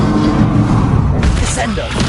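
A Confringo blasting spell explodes in Hogwarts Legacy, giving a loud, dull boom and rumbling thuds. Spoken voices run underneath the blast.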